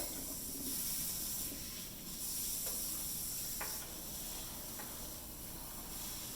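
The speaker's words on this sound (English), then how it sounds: "section by section you gotta rinse" Steady hissing spray of water at a salon shampoo bowl as shampoo is rinsed from curly hair, a soft continuous rush with faint low background, no voices.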